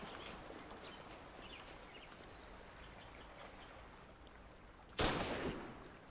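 A single sharp sniper rifle shot fired for a headshot in the video game Hold Your Own, a sudden loud crack with a brief decaying tail after a stretch of quiet game ambience.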